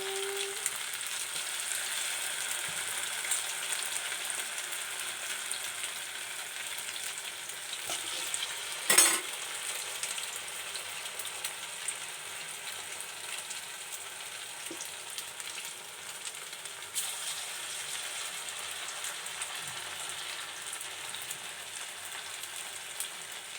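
Maggi noodle pakoda bubbling as it deep-fries in hot oil, a steady close crackling sizzle running throughout with one brief louder clatter midway.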